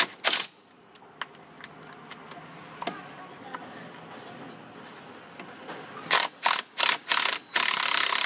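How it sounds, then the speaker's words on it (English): Ratchet wrench removing 13mm bolts on a Drago corn head: quiet ticking clicks early on, then a loud burst of rapid pawl clatter in several quick strokes near the end. "You got two 13mm bolts you got to remove."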